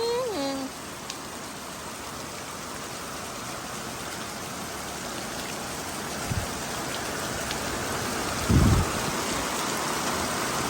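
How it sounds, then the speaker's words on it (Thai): Heavy storm rain pours steadily in a dense, unbroken hiss, with a brief voice at the start and a couple of faint thumps later. "ที่นี่ก็ฝนตกลงมาแห้งขนาดเลย"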